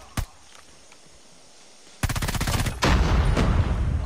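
Gunshots in a ranked online shooter match: one sharp crack early on, then a loud rapid burst of automatic fire followed by further dense, heavy firing, with no talking.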